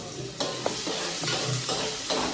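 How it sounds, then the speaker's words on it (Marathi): Rice roasting in a pan for a mushroom and wild vegetable dish, a steady close sizzle broken by several scraping stirs of a spoon, with no one talking. "सगळ्यात पहिल्यांदा आपण तांदूळ जरा भाजून घेऊया"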